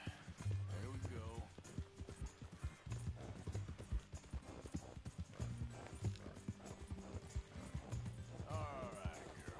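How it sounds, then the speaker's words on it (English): Horse hooves clip-clopping at a steady running rhythm in Red Dead Redemption 2, close and continuous, with a neigh, game music and a person talking over it. "this is a pretty horse"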